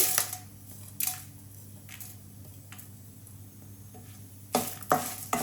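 Fenugreek seeds frying in oil for gongura chutney give a faint, low sizzle, broken by a few sharp clicks of a spoon against the pan and a louder cluster of stirring scrapes near the end.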